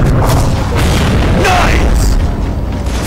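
A grenade blast in the shooter game Gears of War: Judgment lands as a deep, loud boom with a rumbling tail beneath continuous game noise, while a player talks over it.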